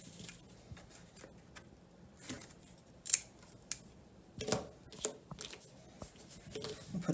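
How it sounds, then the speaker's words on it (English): Scissors snip through a marked basket-weaving spoke, giving a few sharp close clicks and crunches scattered over a quiet indoor background, with no talking. "I'm going to cut that piece off"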